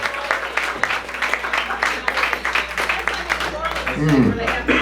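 An open mic audience in Waco applauds the performers, dense clapping running throughout with cheers mixed in, fairly loud and close.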